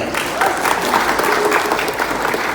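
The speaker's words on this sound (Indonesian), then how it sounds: "Boleh lu tepuk tangan buat kalian." A room full of people claps steadily, a dense patter of applause at moderate distance with no talking over it.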